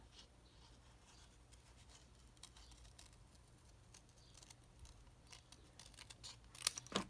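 Scissors cutting paper during a card-making craft project: faint, close snips and soft paper rustles in a quiet room, growing a little louder and sharper toward the end, with no talk.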